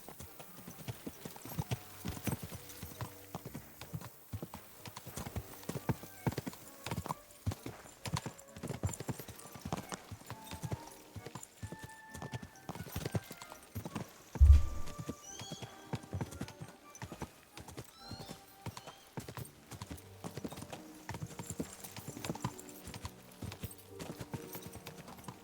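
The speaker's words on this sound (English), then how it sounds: "Muita andada de cavalo, né, nesse episódio." Horse hooves clopping steadily in Kingdom Come: Deliverance 2, a long run of rhythmic, moderately close footfalls with a brief louder thump midway and soft ambient noise beneath.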